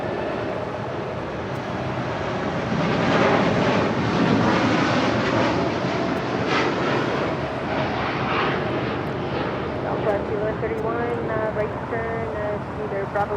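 American Airlines airliner landing on runway 25 left at LAX, heard as a loud, sustained jet engine roar with broad rushing noise and some wind, steady throughout with a slight swell in the middle.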